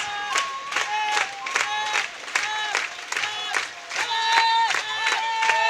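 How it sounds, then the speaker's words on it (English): A volleyball arena crowd erupts after match point in a European club final between Gas Sales Bluenergy and Neptunes de Nantes, with loud rhythmic cheering and chanting pulsing in steady beats and filling the hall. "The crowd is cheering. We can barely hear ourselves."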